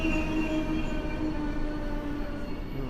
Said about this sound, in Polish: Na stacji w Sosnowcu za chwilkę zagości lokomotywa EP09.